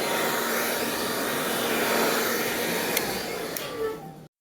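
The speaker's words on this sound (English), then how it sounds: "Then I'm gonna go back in with the blow dryer just to spread that oil all over his hair." Handheld blow dryer running on a boy's hair after Vaseline is applied, a loud steady whooshing roar held close to the mic for about four seconds, with a couple of brief clicks near the end before it cuts off abruptly.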